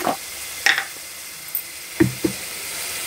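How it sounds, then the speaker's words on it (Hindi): Masala for a guar bean (gavar phali) sabzi being fried in a pan, with a steady soft sizzle and a few sharp knocks and scrapes of a stirring spoon against the pan, no talking. "इसको भून लीजिए मसाले को पहले अच्छे तरीके से"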